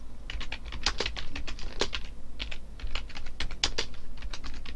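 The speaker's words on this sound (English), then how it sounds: "let me type some random characters." Random characters typed on a computer keyboard in quick, irregular bursts of close, crisp key clicks, with a few short pauses and one or two heavier keystrokes, and no talking.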